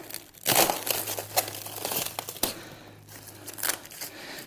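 Crinkling plastic wrap and tape are pulled and torn off OFX Gobi roof rack parts, giving a close, steady run of crackles with bursts of tearing and no talking.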